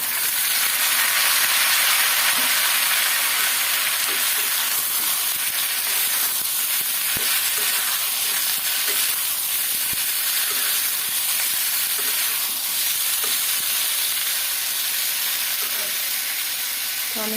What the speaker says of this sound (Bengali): পেঁয়াজ, রসুন, শুকনো মরিচ এগুলো ভাজাভাজি করে নিলাম।